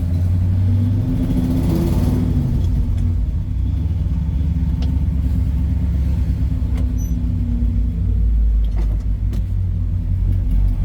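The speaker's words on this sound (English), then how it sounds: "we're cruising around the parking lot in third gear" A 1972 Chevrolet C30 Stepside truck cruises in third gear around a parking lot, its engine a steady, loud low rumble that holds throughout with little change in pitch.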